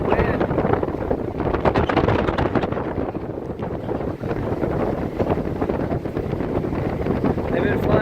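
Hurricane Irma's strong wind blows in a loud, unbroken roar with constant buffeting and rumble throughout, close to the microphone and with no letup.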